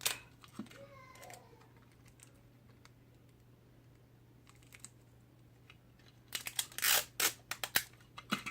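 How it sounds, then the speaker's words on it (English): Scotch tape is torn from the roll and pressed over the wording on a rubber stamp, giving a close burst of sharp crackling rips near the end after quieter scattered handling sounds and a faint steady hum. "where the wording is, I just cover it with some Scotch tape"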